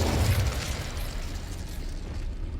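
An Incendio fire spell in Hogwarts Legacy bursts with a loud, rushing, fiery roar that starts heavy and thins into a sustained crackling hiss, with no talking.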